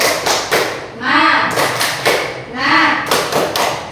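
A class performs the rhythmic tepuk semangat clapping chant, led by a teacher. Loud bursts of group claps alternate with voices chanting in unison, repeating in a steady pattern.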